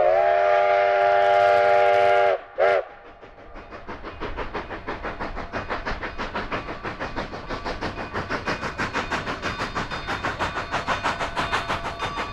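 A steam whistle blows a long, loud chord, then steam locomotive 487 chugs past across the flats near the Rio Chama, with a rapid, steady rhythmic puffing that gradually grows stronger.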